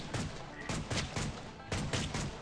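Cartoonish gunfire from the swamp-defence game Swamp Attack 2: several quick bursts of shots in an uneven rhythm, loud and close, with a brief pause in the middle.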